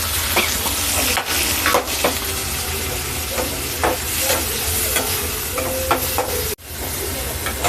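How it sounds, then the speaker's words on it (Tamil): Loud, steady sizzling of tomatoes sautéing in a pan, with repeated scraping and stirring strokes throughout and a brief dropout near the end. "அப்படியே கொஞ்சம் தக்காளியும் போட்டு வதக்கிக்கோங்க."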